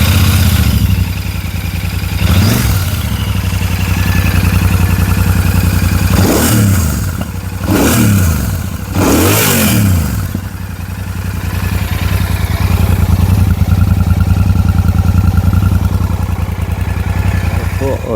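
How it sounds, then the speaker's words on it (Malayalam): A Royal Enfield Super Meteor 650 twin-cylinder cruiser idles with a steady low rumble, then revs sharply four times, each throttle blip rising and falling before settling back to idle, close and loud throughout. "ജസ്റ്റ് ഇതിൻ്റെ സൗണ്ട് ഒന്ന് കേട്ട് നോക്കാം എങ്ങനെയുണ്ട് എന്നുള്ളത്"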